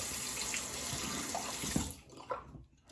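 A vintage Gibbs adjustable razor being rinsed under a running tap, steady splashing water that cuts off near the end, leaving a few drips and faint handling sounds.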